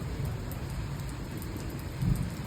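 First rain of the year falling in Chamarajanagar district after a spell of heat, a steady broadband hiss of rain with a slightly louder swell near the end.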